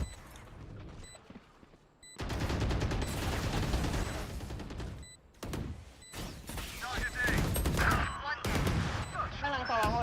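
Bursts of Valorant gunfire during a VCT Pacific match, dense volleys starting after a quiet opening and repeating in loud waves, with live commentary talking over them.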